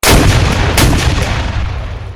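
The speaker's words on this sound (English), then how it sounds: "He starts using his cannons to blast away at the earthworks the Confederates set up" Civil War cannon fire booms out against Confederate earthworks, a loud heavy blast that rolls into a long rumbling decay, with no voices over it.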